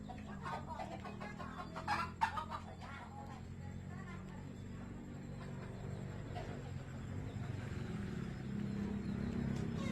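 Chickens clucking in a Lao village yard, a faint scatter of clucks over a steady low rural background with a few brief louder bursts near the start.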